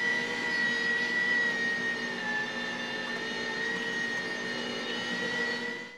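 An electric meat grinder grinding meat for fresh Polish sausage, a steady loud motor whine with a high tonal hum running unbroken throughout.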